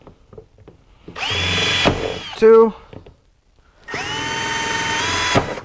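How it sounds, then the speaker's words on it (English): A power drill whirs in two steady bursts, drilling holes during a Porsche 911 Turbo 996 intercooler install, close and loud, with a short spoken word in the pause between them. "This side over here already has holes. We just got to drill into there."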